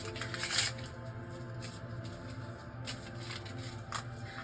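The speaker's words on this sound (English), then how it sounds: "So next I'm going to shuffle here." Tarot cards are shuffled by hand at close range, a soft continuous riffling and sliding with small flicks and taps and no talking.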